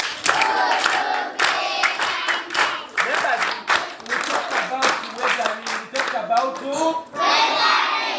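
A class of young pupils in a primary school science lesson clap together for a classmate, a run of sharp, rhythmic handclaps close by, with children's voices calling out over the claps.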